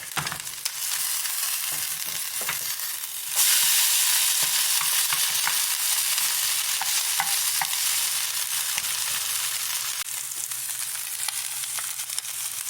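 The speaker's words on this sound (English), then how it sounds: "We're sizzling, toasting on one side." Steady, loud sizzling and crackling of homemade corned beef hash frying in a hot pan, with occasional scraping and stirring, continuous throughout.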